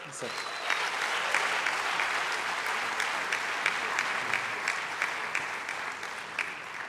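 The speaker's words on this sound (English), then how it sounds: "please give the graduates and the families and the partners a huge round of applause" Loud, sustained applause from a large crowd at an MBA graduation ceremony, dense clapping filling the space evenly for several seconds.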